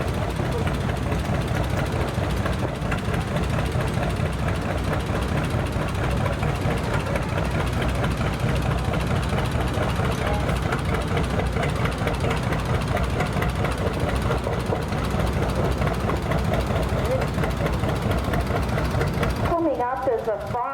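Restored antique tractor engine running in a county antique power tractor show parade, a continuous, close, steady chugging drone that holds throughout, with people talking over it.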